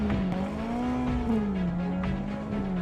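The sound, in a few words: Ferrari FF V12 police car driving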